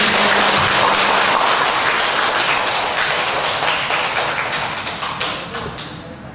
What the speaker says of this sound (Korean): 박수를 하겠습니다